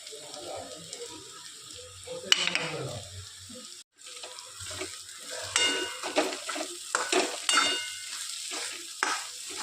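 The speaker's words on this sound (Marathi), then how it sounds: "आता हे दाणे आपले शिजत आलेले आहे तेलामध्ये. त्याच्यामध्ये आपण हळद मसाला टाकून घेऊ." Pigeon peas frying in oil as turmeric masala is stirred in, an uneven sizzle broken by scraping stirs and soft clattering, close up, with a short pause partway through.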